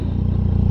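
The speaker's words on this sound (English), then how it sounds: "Watch how quickly it revs here." A 2016 Triumph Tiger 800XC motorcycle engine revs close by with a steady, throbbing low pulse, loud and continuous through the short burst, no talk.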